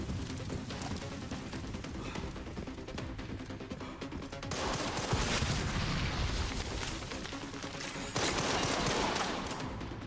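Gunfire in a video game bursts in sustained, loud volleys with heavy crashing impacts, surging louder midway and again near the end, with no voices over it.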